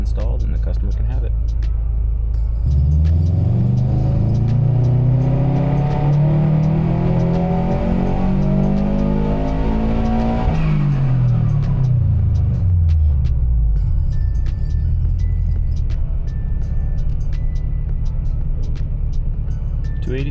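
A 2011 Subaru WRX with front-mount intercooler engine revving on a dyno during a final pull, loud rumbling exhaust rising steadily in pitch for several seconds then dropping off, with steady dyno fan roar throughout.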